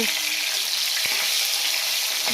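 Bay leaf and nigella seeds sizzle in hot oil, a steady close-up frying hiss that runs unbroken throughout, with a brief clink of a utensil near the middle and no talking.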